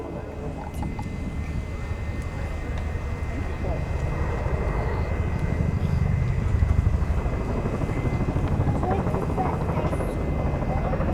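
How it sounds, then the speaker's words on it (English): A Chinook helicopter at an RAF Cosford role demo drones steadily, its rotor thrum growing gradually louder as it approaches, with no voices. "As Cal brings the aircraft back in"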